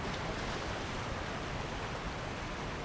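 A waterfall in the Elden Ring video game roars as a steady, dense wash of rushing water with no pauses, filling the whole stretch at a constant level.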